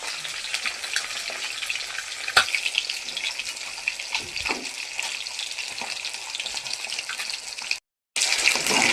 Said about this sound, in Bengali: মাছ ভাজা হচ্ছে, রুই মাছ।